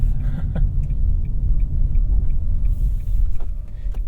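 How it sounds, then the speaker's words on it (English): A 2023 Nissan Leaf rolls at low speed, its low-speed warning noise a faint, steady synthetic tone. From the cabin it sits above a constant low road rumble, with occasional small clicks. "That slow speed noise is not pleasant."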